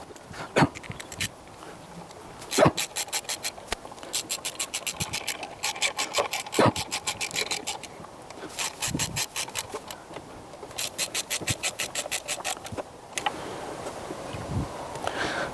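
A socket wrench ratchets in quick bursts of rapid clicks, tightening the spark plugs on a Peugeot 206. The near, crisp clicking is broken by short pauses and a few rubbing scrapes.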